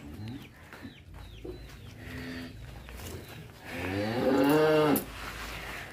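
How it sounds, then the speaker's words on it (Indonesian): A cow moos loudly and close by as it leaves its village pen, a long drawn-out low call, after scattered clucking of chickens nearby. "Bersama Mas Davi dan sapi Bisma keluar kandang."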